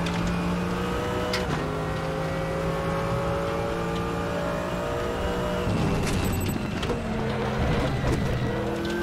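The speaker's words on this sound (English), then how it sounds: "Kirill Antonov in the Porsche." A Porsche GT race car engine drones at high revs in a sim racing esports practice session, holding a steady loud tone with gear-shift steps and a rising pitch, and no talk over it.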